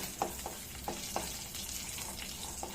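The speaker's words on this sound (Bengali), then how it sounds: "ফোড়ন দিলাম, তেজপাতা ফোড়ন দিলাম, শুকনো লঙ্কা ফোড়ন দিলাম, জিরে ফোড়ন দিলাম" Bay leaf, dry red chilli and cumin seeds frying in hot oil as a tempering for a Bengali prawn curry, a soft steady sizzle with light crackles and a few utensil taps, close by.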